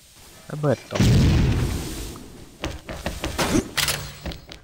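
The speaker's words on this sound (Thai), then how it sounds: "ระเบิดตก" A bomb blast in the online shooter game XSHOT's Ghost Mode lands as a heavy boom followed by a rumbling tail, then several sharper shots and thuds, loud and close, with someone talking briefly before the blast.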